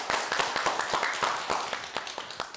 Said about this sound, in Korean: 큰 박수와 함께 우리 김영덕 원장님의 강의 들어보도록 하겠습니다.